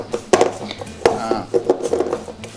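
Sautéed onion and pepper for tempeh crab cakes are mixed in a hot pan, with short clacks and scrapes of a utensil against cookware close by, under a speaking voice.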